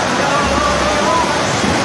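Steady, loud rush of a waterfall fills the whole clip, a dense continuous roar with no breaks.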